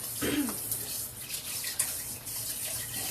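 Tap water running to rinse out a bowl in a home kitchen, a soft steady close hiss of flowing water with a brief splash near the start, fairly quiet and without talk.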